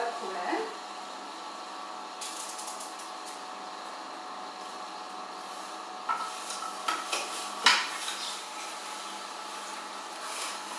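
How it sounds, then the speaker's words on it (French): An Omega juice extractor presses alternating apples and carrots, giving a steady mechanical whir throughout, with a few brief clacks and crunches near the end. "j'ai passé un peu de carotte, ensuite un peu de pomme, je vais repasser un peu de carotte"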